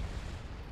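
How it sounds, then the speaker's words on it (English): Artillery bombardment in the Star Wars: Empire at War strategy game lands as a brief, heavy, rumbling blast that fills the moment with low booming noise. "Bombardment. Incoming."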